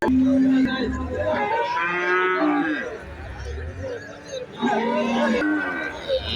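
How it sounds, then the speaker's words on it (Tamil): Native cows at the Valliyoor cattle market in Tirunelveli lowing nearby, several moos rising and falling over crowd noise, with people talking in the background. "நாட்டு மாடு."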